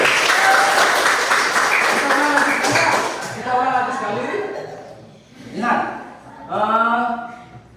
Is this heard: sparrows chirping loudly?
no